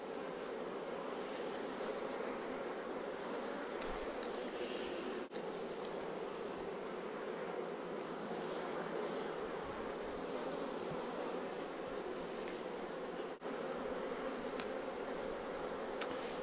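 Honey bees drone in a steady, dense hum from hives during a colony split with queen cells, a continuous soft buzz with no breaks or voices.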